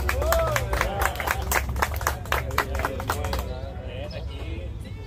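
A crowd claps for Ángel, the winner of a kayak tournament at Presa La Boca, with scattered hand claps running under loud, close talking that dominates throughout.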